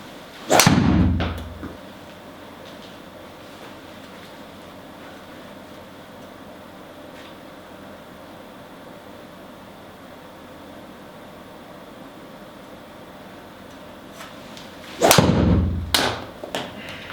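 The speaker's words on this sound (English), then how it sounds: "I'm going to hit my first few shots with the Epic Sub-Zero" Two sharp club impacts from a Callaway Epic Sub Zero driver striking golf balls outdoors, each a crisp thwack followed by a brief whoosh, spaced far apart with quiet ambient air between.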